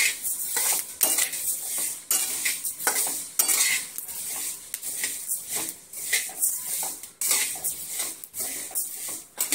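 Flax seeds dry-roasting over low heat in a hot kadhai, stirred continuously so that a spatula scrapes and rattles the seeds in a busy, irregular rhythm close to the pan.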